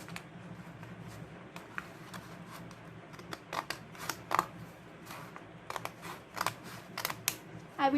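Scissors cut through paper for a pop-up card: quiet, close snips and crisp clicks arrive in an irregular series, louder toward the end, over a faint background hum.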